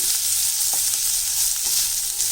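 Onions and green chillies sautéing in a pan make a steady, close hiss of frying, with a few faint stirring scrapes along the way and no talk over it.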